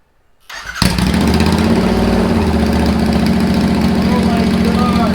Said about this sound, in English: So now we're going to power it on and see how the bike sounds without the exhaust,